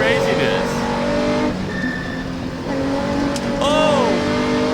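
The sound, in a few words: historic Porsche rally car onboard, fast in the wet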